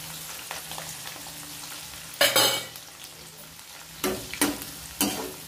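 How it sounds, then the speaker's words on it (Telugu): Chopped onions hit hot oil with a tempering of chana dal, urad dal, cumin and mustard seeds for a brinjal fry, giving a steady close sizzle with several louder hissing bursts as they are stirred. "పోపు వేగిపోయిందండి, ఉల్లిపాయలు వేసుకుంటున్నాం."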